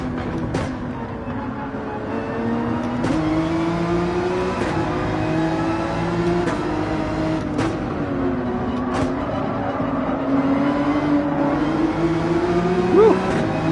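A race car in Gran Turismo 7 runs on a track, its engine droning steadily and shifting pitch as it accelerates, with short tire and track noises on top and no talk.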